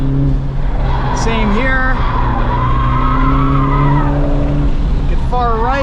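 Tires of a Honda Civic Type R FL5 on Michelin Pilot Sport Cup 2s squeal under hard track braking and turn-in, rising wavering tones over a steady engine drone, with a driver talking throughout.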